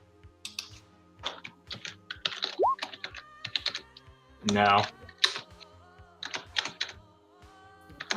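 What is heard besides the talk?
typing on a computer keyboard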